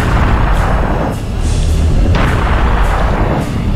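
Heavy cannon blasts boom repeatedly in the Serious Sam video game during a co-op fight at the Great Pyramid, several loud deep shots landing in quick succession against a dense, continuous roar of combat.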